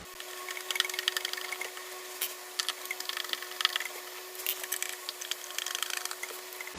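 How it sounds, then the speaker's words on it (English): Phillips screws being worked loose from a wooden stereo cabinet, giving repeated scraping, creaking and clicking bursts of metal on wood over a steady hum, close and moderately quiet, with no talk. "Now we got some Phillips screws there, so let's find a bit for that."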